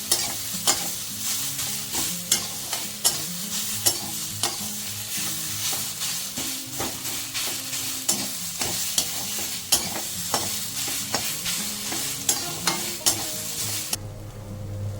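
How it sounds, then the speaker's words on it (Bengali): Coconut paste stirred and fried in a pan for a taro-leaf prawn dish, with a close, steady sizzle broken by regular scraping strokes of the spatula throughout and no talking. "তারপর আগে নারকেল বাটাটা দিয়ে দিচ্ছি, তারপর আবার অনেকক্ষণ নাড়তে হবে।"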